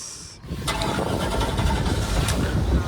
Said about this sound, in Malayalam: അങ്ങനെ ബോട്ട് ഐശ്വര്യമായിട്ട് സ്റ്റാർട്ട് ചെയ്തിട്ടുണ്ട് അല്ലേ? അപ്പൊ എൻജിൻ സ്റ്റാർട്ടായി ഇവിടെ.